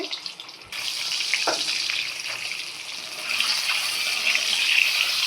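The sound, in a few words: eggs frying in hot oil in a pan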